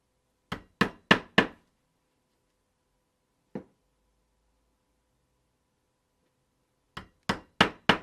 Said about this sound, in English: So now all we have to do is punch this out, or punch it, sew it, and we're good to go.